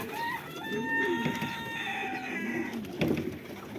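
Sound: chickens on a farm

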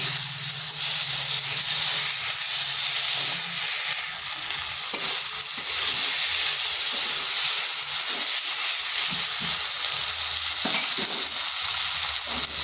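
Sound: stir-frying food with spices in pan

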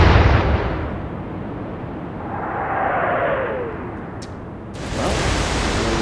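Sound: firing an 8-inch naval shell in the video game Atlantic Fleet

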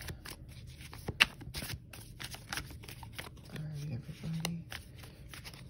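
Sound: shuffling playing cards

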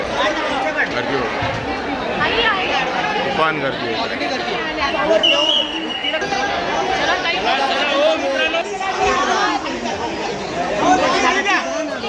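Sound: crowd of devotees at Tembhi Naka temple darshan

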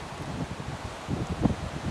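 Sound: Hurricane Ian wind rustling leaves in backyard

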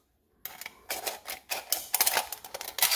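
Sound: scissors cutting thin aluminum can

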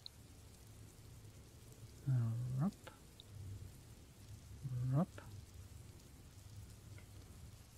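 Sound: rain falling

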